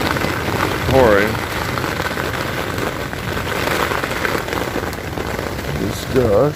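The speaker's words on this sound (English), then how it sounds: "It's pouring rain again" Heavy rain pours steadily onto a tent in a loud, dense patter. Short bursts of voice rise briefly above the downpour near the start and end.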